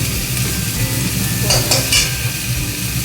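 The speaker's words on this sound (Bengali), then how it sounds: "এবার রসুন দিলাম, পেঁয়াজ দিলাম, এগুলোকে একটু ভালো করে ভাজা ভাজা করে দেবো" Garlic, onion and chillies fry in a pan with oil, producing a constant loud sizzle and a couple of brief stirring scrapes midway, with no talking.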